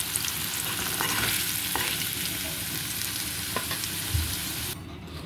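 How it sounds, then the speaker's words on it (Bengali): Potatoes fry in hot oil with a loud, steady sizzle, broken by scraping stirs of a spatula, close up, easing slightly near the end. "আলুটা প্রায় আমার ভাজা হয়ে এসেছে দেখতে পাচ্ছেন বন্ধুরা। এবার আমি একটু নেড়ে চেড়ে তুলে নেব।"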